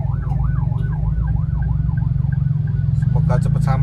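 An ambulance siren wails in a steady rising-and-falling pattern, moderately close, passing through jammed traffic with heavy low rumble and engine noise.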